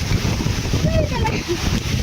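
Strong typhoon wind roars and buffets a microphone at a house during a storm, a loud continuous rushing with gusty low rumble filling the whole stretch.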